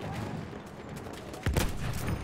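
An enemy machine gun in Battlefield 1 fires fast continuous bursts at a distance, then a louder, closer volley of heavier shots breaks in partway through.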